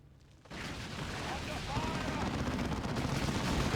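Assault cannon gunfire in the strategy game Dawn of War 2, a sudden onset of rapid, dense automatic firing that continues loudly through the rest of the moment, mixed with battle effects.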